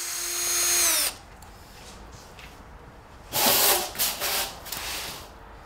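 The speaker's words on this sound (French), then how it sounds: "Perce avec un foret à métaux d'un côté à travers le cadre." A power drill with a metal bit bores through the frame of a terrace door, giving a loud whining burst at the start, then several shorter, rougher grinding bursts after a quiet pause.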